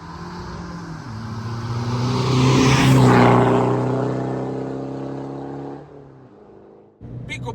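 A tuned Fiat Punto III Evo 1.6 Multijet diesel with direct intake, remapped ECU, larger intercooler and full 60 mm silenced exhaust revs up loudly, peaks around the middle, then falls back to a lower drone before a brief dip and another surge.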